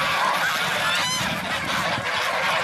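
Geese on a poultry farm of about 300 birds honk loudly and close by, a dense overlapping chorus of nasal calls that continues without a break.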